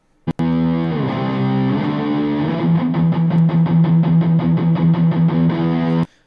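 Distorted electric guitar rings out a sustained chord, then shifts into repeated, evenly picked notes in E in a steady rhythm, played alone.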